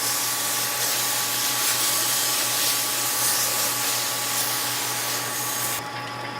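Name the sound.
water rinsing down a roller mill pulverizer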